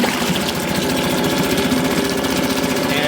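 A Suzuki 2.5 HP outboard motor runs steadily during its break-in period, giving a continuous, close engine drone with an even, rapid pulse and no voices.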